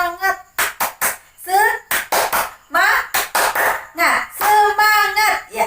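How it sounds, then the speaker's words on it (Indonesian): A class of children performs the 'tepuk semangat' rhythmic clap in a classroom, sharp claps in quick patterned bursts interleaved with chanted children's voices, close and loud. "Tepuk semangat."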